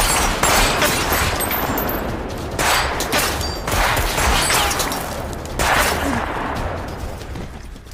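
Guns fire in a brutal movie battle against tactical troops, with loud, dense bursts of shots in repeated waves, close and sharp, layered with booming impacts.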